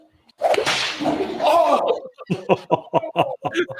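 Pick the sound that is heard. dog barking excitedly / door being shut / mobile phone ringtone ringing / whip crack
whip crack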